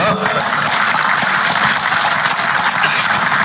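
Audience at a political rally applauds in a dense, continuous wash of clapping, loud and close, holding steady without a break.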